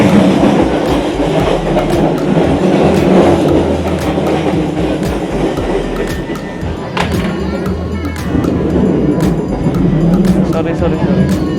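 Inside a carriage of the Serayu passenger train: a steady, loud rumble with rhythmic clickety-clack of wheels on rail joints throughout, and faint voices in the background.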